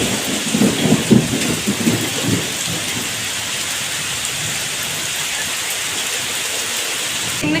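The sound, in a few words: heavy rain with thunder and wind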